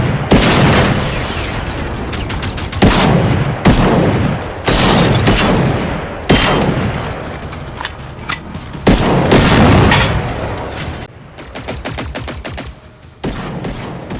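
Heavy automatic gunfire from a heavy weapon in the shooter game Generation Zero, loud sustained bursts separated by short pauses, with booming reports and no talk.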